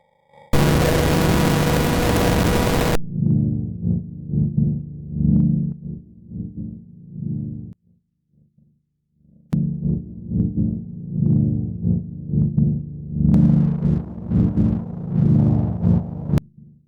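Dub chords play through X noise distortion in Ableton Live, opening with a blast of harsh noise, then loud, gritty, pulsing chords, a brief silence, and a second noisy, crackling chord passage.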